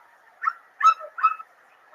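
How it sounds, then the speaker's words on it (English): A dog barking sound effect, three short separate yips or barks over a faint background hum, fairly close and clear. "Perfect timing for the dog sound effects after the HEB announcement."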